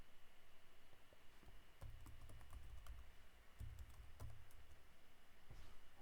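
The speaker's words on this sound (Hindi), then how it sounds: "तो यहाँ पे हम टाइप करें" Typing on a computer keyboard during a networking lesson, quick bursts of clicking keys at close range with short pauses between, no talk.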